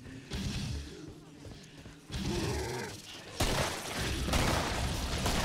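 Bursts of gunfire in the shooter game Killing Floor come in several loud, dense volleys, with a voice speaking over parts of the shooting.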